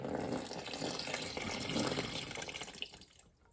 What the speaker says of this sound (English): if I keep turning it upside down, water comes out.